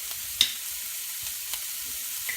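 Bacon grease, about a teaspoon and a half, melting in a pan as a fat base for biscuits-and-gravy sausage gravy, giving a steady soft sizzle with a few brief clinks, no voices.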